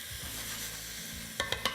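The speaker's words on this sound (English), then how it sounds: "we're just really sauteing these vegetables until they're tender" Chopped vegetables for minestrone soup sautéing in a pan, a steady close sizzle running throughout, with a few sharp utensil scrapes or stirs near the end.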